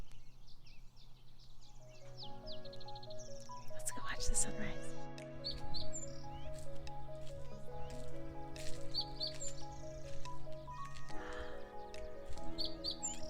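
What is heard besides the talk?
birds singing at sunrise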